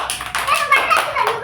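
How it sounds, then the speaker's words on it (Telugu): Children in a Sunday school class clap for two classmates, a quick patter of small hands with children's voices mixed in over the short burst. "జ్యోతికి నాంచారమ్మకి క్లాప్స్ కొట్టండి"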